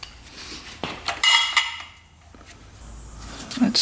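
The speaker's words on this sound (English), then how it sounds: "Get this oil tank out of the way." Metal parts clank and clink sharply while an old oil tank is worked off a rare two-stroke motorcycle left in a barn for 20 years, with a cluster of bright knocks, a short lull, then more rattling.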